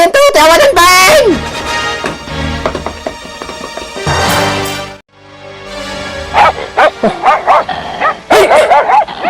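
A dog barks and yips in loud, repeated bursts amid shouting voices in a chaotic outdoor scene near a road, with people talking over much of the barking.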